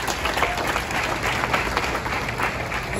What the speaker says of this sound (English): please give up round of applause